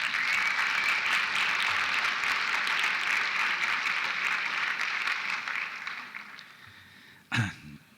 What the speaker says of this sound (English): Let's give these folks a nice round of applause.